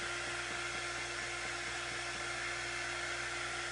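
A heat tool drying ink blows a steady, loud, continuous whirring rush with a constant motor hum, close to the mic and unbroken throughout.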